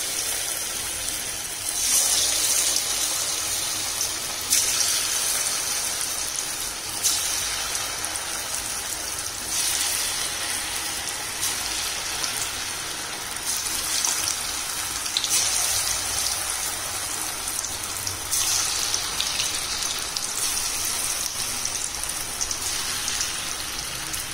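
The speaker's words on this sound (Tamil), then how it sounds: "இப்ப ஒரு பலாக்காவா நம்ம எடுத்து எண்ணெயில சேர்த்துக்கலாம்." Raw jackfruit pieces sizzle in hot oil over medium heat, a continuous hissing crackle with bursts that swell and ease, no voices over it.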